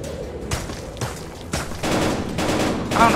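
Rapid gunfire in a VR shooter game, several loud bursts of synthetic shots close up, coming in quick clusters with a brief electronic tone near the end.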